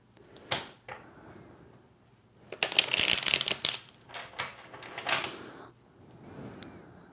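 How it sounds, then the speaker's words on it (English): Tarot cards are shuffled close by in several bursts of crisp riffling and flicking, the busiest flurry in the middle, separated by short quiet pauses. "Let me just do one more shuffle."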